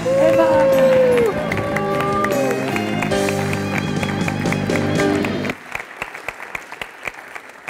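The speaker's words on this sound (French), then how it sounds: "Applaudissez alors Eva" An audience applauds to welcome a guest at a stage event, with loud clapping under a tonal music bed that cuts off partway through, leaving scattered, thinning claps.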